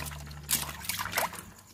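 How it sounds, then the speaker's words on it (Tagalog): Running water trickles and splashes while frog meat is being washed, a soft, close, uneven dribble with a few brighter splashes, no talk over it. "Kailangan ko talaga itong hugasan ng mabuti"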